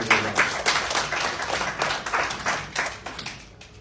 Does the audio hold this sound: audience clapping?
yes